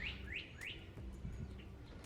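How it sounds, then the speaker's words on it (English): A bird chirps three times in quick succession near the start, then gives fainter scattered calls over a soft background murmur, with no talking. "That bird is trolling me"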